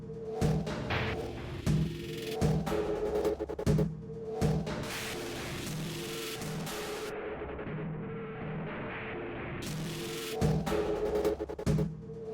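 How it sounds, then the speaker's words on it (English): Distorted tempo drum hits and stingers from the Soundiron Radiant Decay cinematic library pound in a regular pulse. Gritty, saturated bursts are layered over a sustained noisy wash, and a louder smeared stretch in the middle is followed by the hits returning. "we have the tempo drums. We just have one layer, just the hits and stingers. But what I did was I added some distortion."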